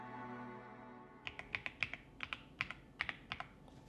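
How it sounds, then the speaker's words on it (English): Crisp, clicky keystrokes on a computer keyboard tapping out a quick irregular rhythm, close and clear, starting after a second of quiet hum. "as you type, just listen to the sound."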